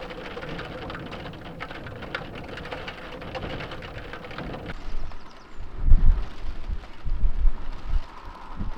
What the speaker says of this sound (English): That wind and rain out there is not appealing at all